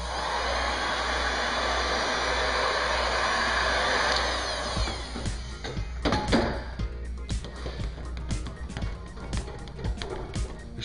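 A heat gun blows a steady, loud hiss of air while warming vinyl wrap film on a car hood edge, running continuously for a few seconds before breaking into scattered handling clicks and rustles.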